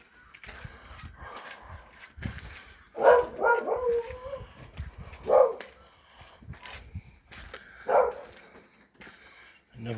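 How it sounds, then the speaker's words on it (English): A dog barks a few times at a distance, with short yips and whimper-like calls, outdoors near a railway worker's cottage, among faint ambient noise. "Another dog."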